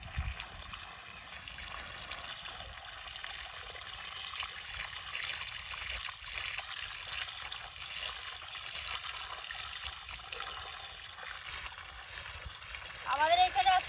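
Water gushes steadily from a motor-driven pump tap at a pond-side washing spot while taro greens are rinsed. The rushing flow is constant and fairly close, with voices talking over it, and a brief louder splash comes at the end.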